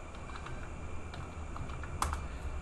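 Keys clatter on a computer keyboard as a network switch command is entered, a steady run of close, light clicks with a sharper burst of keystrokes near the end, no talking.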